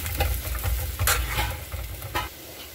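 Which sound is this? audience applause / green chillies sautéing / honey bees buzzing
green chillies sautéing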